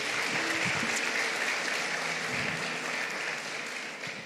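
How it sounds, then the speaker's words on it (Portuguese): Church congregation applauding in praise, a full, even wash of clapping throughout the room, slowly easing in level toward the end. "pode aplaudir o Senhor Jesus, queridos"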